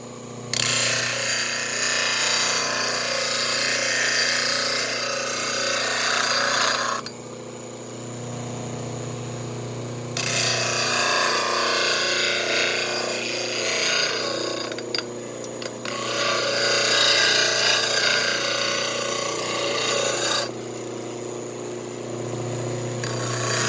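Power tool grinding down the cut end of a sawed-off Red Ryder BB gun, a loud rough buzzing in long bursts with short pauses between passes, close by and without speech.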